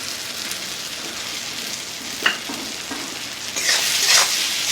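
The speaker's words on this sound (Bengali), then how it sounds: "আবারও আমি খুব ভালো করে নেড়ে নেব।" Panch mishali dal with fried egg bhujia being stirred in a pan, a soft steady sizzle with scattered scraping strokes and a louder burst near the end, no voices.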